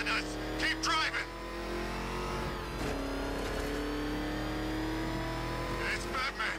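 Car speeding through a chase in the game Batman Arkham Knight, a steady loud engine drone with revving and brief tire noise, under shouted voices.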